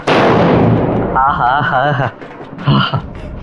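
A Diwali firecracker bursts with a loud, sharp bang at the start, followed by an echoing decay while excited voices shout and talk over it nearby.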